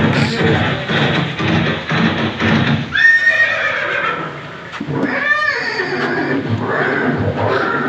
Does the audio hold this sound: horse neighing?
yes